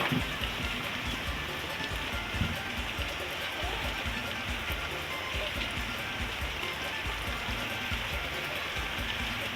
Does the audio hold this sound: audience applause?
no